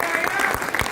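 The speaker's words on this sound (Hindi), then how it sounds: "जोरदार तालियां।" Loud audience clapping during a motivational business talk, a brief dense burst of applause with a bright, steady wash of claps.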